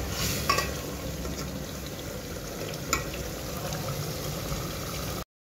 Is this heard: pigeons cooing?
no